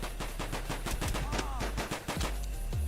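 Video game gunfire crackles in rapid repeated bursts like automatic weapons, loud and continuous over a low rumbling game background, with a few scattered louder shots.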